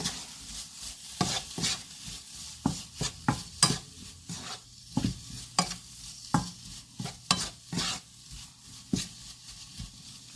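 Food cooking in a pan is stirred with repeated scraping strokes in an irregular rhythm, close and clear over a soft, steady sizzle.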